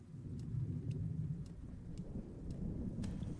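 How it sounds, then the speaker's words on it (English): Steady rain hisses in a dark dream world of the video game Yume Nikki, with soft low thunder rumbling underneath and faint periodic drip-like ticks, all fairly quiet and continuous. "Just makes it rain."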